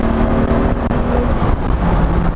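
A Mercedes-Benz 280SL's engine pulls hard under acceleration while driving, a loud, steady, deep drone heard from inside the car for a couple of seconds.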